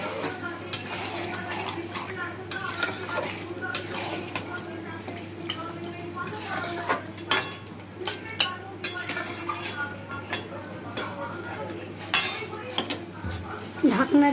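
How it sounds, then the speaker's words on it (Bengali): Spices being stirred in a pan on the stove before pressure cooking, giving steady scraping and clinking of a utensil against the pan, with a constant low hum in the background. "ভালো করে নেড়ে নেব, মশলাটা সব মেখে নেব"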